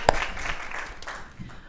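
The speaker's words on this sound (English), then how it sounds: "So another applause." Audience applause at a Haitian women's symposium, a brief burst of clapping from a crowd that fades quickly.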